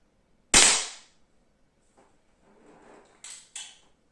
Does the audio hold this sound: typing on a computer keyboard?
no